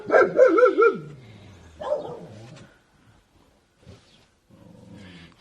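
Dogs barking at people riding horses past a rural farm where sheep are kept, several loud, close barks in a quick burst at first, then a single bark and fainter, scattered yaps trailing off.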